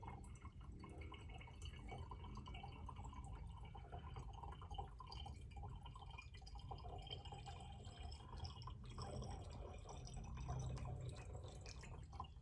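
Water pours through a funnel into the tank of a Harbor Freight handheld steamer, making a faint, continuous liquid trickle with small drips that is steady and quiet throughout.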